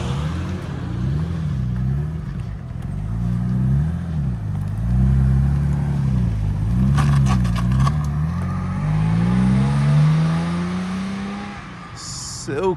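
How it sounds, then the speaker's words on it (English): Classic BMW-style 3-litre CSL with a straight-six engine pulling away, its engine note rising and falling through gear changes, then climbing steadily as it leaves, loud and close with a voice talking over it. "3-litre CSL is leaving."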